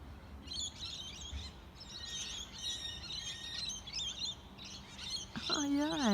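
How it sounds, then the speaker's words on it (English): A flock of Australian native birds chirps and twitters continuously outdoors, with overlapping high calls at moderate distance and a louder whistling call near the end. "They're birds, guys, they're not robots."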